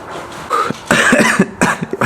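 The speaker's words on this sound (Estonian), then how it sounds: "Hingad täiesti lõpuni sisse ära ja siis hakkab köhima selle peale." A person sick with COVID coughs close to the microphone, a few harsh bursts in quick succession followed by smaller throat-clearing coughs.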